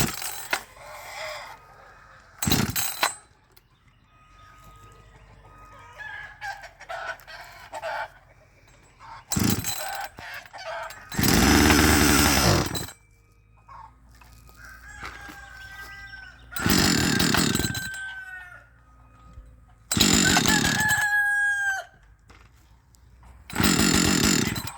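A Husqvarna 555 professional chainsaw being started on choke: loud, close bursts of engine noise from repeated pull starts that briefly catch and die, separated by quieter stretches with faint background sounds.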